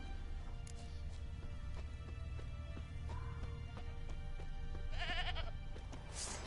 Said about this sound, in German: Ziege!